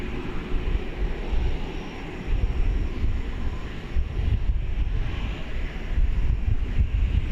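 A Beech 1900C turboprop at DFW airport at night sends out a steady, broad engine roar, with wind buffeting the microphone throughout.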